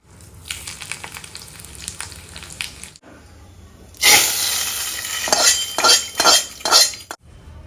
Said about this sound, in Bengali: ডালে ফোড়ন দিয়ে দিয়েছি